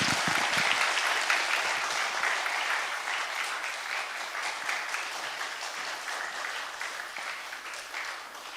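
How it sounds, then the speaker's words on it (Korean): A church congregation applauds to welcome a guest pastor, a full room of steady clapping that starts loud and gradually thins and softens over several seconds. "이제 나오실 때 큰 박수로 환영해 주시면 고맙겠습니다."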